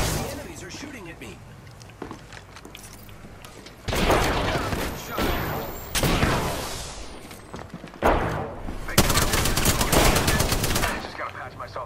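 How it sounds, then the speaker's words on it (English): Bursts of enemy gunfire in Apex Legends come in loud rapid volleys separated by short lulls, with heavy thuds mixed in and a voice heard in between. "The enemies are shooting at me."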